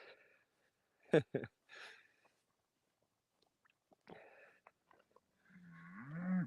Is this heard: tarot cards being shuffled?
no